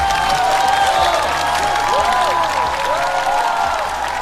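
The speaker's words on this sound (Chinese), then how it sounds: "再次掌声送给各位。" A studio audience at a Chinese roast comedy show bursts into sustained applause mixed with cheering, loud and continuous for several seconds.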